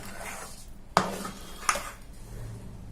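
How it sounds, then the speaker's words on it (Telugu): Cashews mixed with cardamom powder are stirred in a pan for kaju chikki, with quiet scraping and two sharp utensil clinks against the vessel, one stronger than the other. "ఇలాచీ పౌడర్ వేసిన తర్వాత బాగా కలపాలి"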